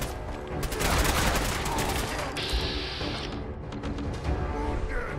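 Rapid bursts of gunfire from the video game Fallout 4, dense and continuous with mechanical clatter, steady and loud throughout.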